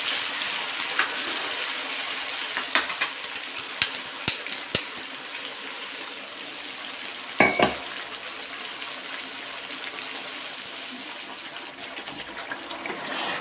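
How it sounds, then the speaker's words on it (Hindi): A garlic, ginger and onion paste sizzles steadily in a hot pan, with a soft continuous crackle and occasional sharper pops; no one speaks. "लहसुन अदरक प्याज, ये सब अच्छे से भुन गए हैं।"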